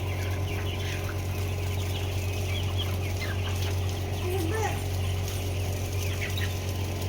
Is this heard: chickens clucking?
yes